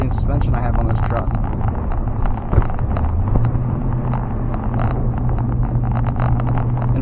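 A pickup truck on Nitto Exo Grappler AWT tires with Bilstein suspension drives over snowy bumps in four-wheel drive, giving a loud, steady engine and road rumble with a thump, while someone talks over it.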